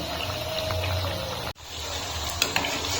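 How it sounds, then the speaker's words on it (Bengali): Pitha fries in hot oil with a continuous loud sizzle that cuts out for a moment as the pieces are turned over, then resumes with a couple of sharp clicks. "এখন আমি উল্টে পাল্টে হালকা লাল লাল করে হয়ে নেব"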